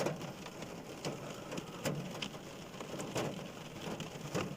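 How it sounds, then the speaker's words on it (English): Steady rain falls outdoors, a continuous hiss with scattered sharper drips and taps spread evenly through the whole stretch, fairly close and unbroken, with no voices. "I'm sorry about the rain"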